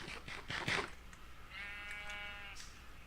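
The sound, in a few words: sheep bleating in video game Minecraft TerraFirmaCraft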